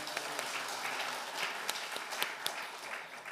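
A church congregation gives a short, even round of applause for the pastor after his sermon. Individual claps stand out here and there against a dense patter.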